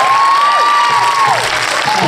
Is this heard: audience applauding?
yes